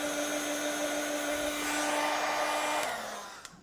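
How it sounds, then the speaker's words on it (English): Handheld heat tool blowing hot air to dry colour on a craft stamp: a steady, fairly loud whirring hum with a fixed tone that winds down and stops in the last half-second. "just get your heat tool, give it a quick blast"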